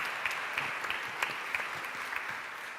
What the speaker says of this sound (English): let's give a big round of applause for Laurian